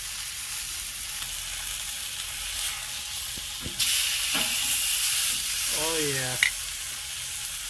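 Surf and turf searing on a Kamado Joe grill, a loud steady sizzle that swells midway, with a few clicks and a brief spoken exclamation near the end.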